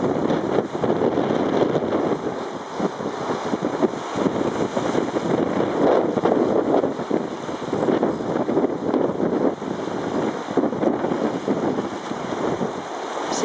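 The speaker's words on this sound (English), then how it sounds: "Wind is blowing a gale here." A strong gale on a coast where guillemots gather roars steadily straight into the camera microphone, a loud, unbroken buffeting rumble with no let-up throughout.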